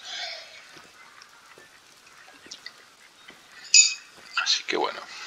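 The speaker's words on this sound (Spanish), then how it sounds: "lo único que escucho son patos, patos, patos y más patos" Ducks quack and honk intermittently in the hunting video game theHunter, set in a New Zealand reserve: a few scattered faint calls, then a louder cluster of quacks near the end against a quiet background.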